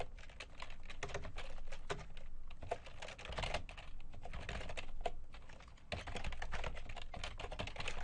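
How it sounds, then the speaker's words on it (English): Continuous typing on a computer keyboard, rapid uneven clicks and key taps running for several seconds, close and fairly quiet with no talk over it. "then I type in the page name"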